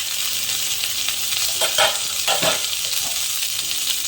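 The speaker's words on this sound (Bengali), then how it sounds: "এবার আমি তরকারিটা এর মধ্যে দিয়ে দেবো" Mankochu and koi fish curry hits hot oil with a constant close sizzle, with a couple of sharper spatula scrapes and bursts of spitting partway through.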